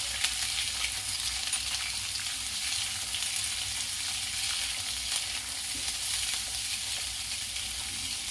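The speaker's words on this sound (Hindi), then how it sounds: "इसे 1-2 सेकंड भून लूंगी हाई फ्लेम पर।" Mixed vegetables fry on a high flame with a loud, dense, unbroken sizzle and faint crackles throughout.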